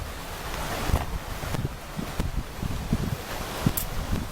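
Steady broadband rush of a river flowing outdoors in the Carpathian mountains, continuous and fairly loud, with faint scattered knocks and rustles mixed in.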